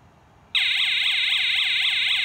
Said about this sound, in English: Defense area alarm.